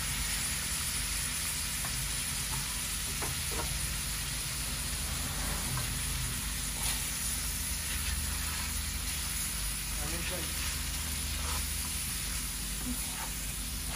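Fish curry with bottle-gourd-like gourd sautéing in a pan, giving a steady, even sizzle and hiss throughout with faint stirring scrapes and no talk.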